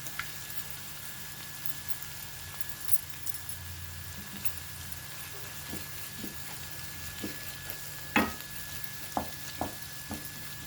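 Ginger garlic paste fries in a pan with a steady, soft sizzle, while a spoon stirs it and scrapes the pan with occasional light clinks and taps, close by and without talk.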